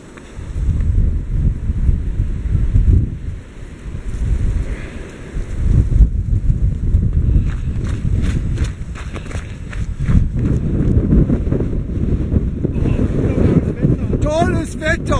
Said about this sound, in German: Falls ihr überhaupt vor lauter Windgeräuschen hören könnt.